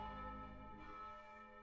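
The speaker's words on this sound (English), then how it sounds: "you can hear the bells ringing from the many towers around it" Church bells ring from the many towers around Oxford, a faint, distant wash of overlapping resonant tones that hang and decay, with no voices.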